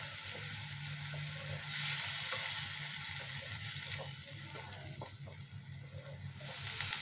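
Ginger, tomato and onion paste frying in a pan for a Bengali katla fish curry, a steady soft sizzle with faint stirring scrapes throughout, no talk.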